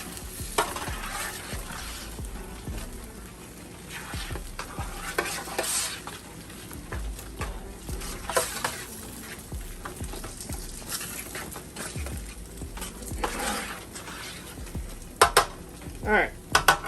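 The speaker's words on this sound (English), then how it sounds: "Let's stir that stuff in." Seasoning gets stirred into a sizzling pan of smothered pork chops, a utensil scraping and tapping against the pan over a steady soft frying hiss, with a few louder clinks near the end.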